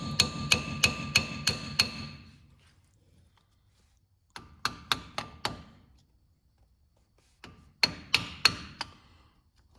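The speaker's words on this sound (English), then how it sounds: "I'm going to go ahead and pull this rotor off." Hammer blows knocking a brake rotor off a 1988–1998 Chevy truck, three bursts of about five or six sharp metallic strikes each, loud and close with ringing decay between groups.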